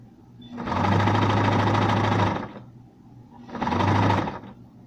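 A noisy sewing machine whirs close by in two bursts, a longer run followed by a pause and then a shorter run, with a dense rapid mechanical chatter.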